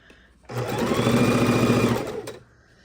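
A sewing machine runs a steady straight stitch across quilt blocks at a short stitch length, a smooth whirring hum that lasts about a second and a half, close and clear, with quiet room sound before and after.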